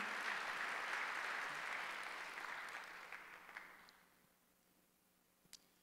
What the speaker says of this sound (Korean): 박수를 한번 돌리세요